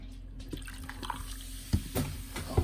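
Vinegar is poured over homemade surprise eggs in a container, making close liquid splashing and dripping with a few louder splashes near the end.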